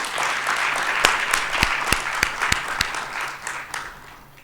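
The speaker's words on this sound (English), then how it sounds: "let's give a round of applause to the CSIR" Audience at an annual science event gives a short burst of applause for the CSIR, close crowd clapping with several sharp, distinct individual claps standing out before it fades.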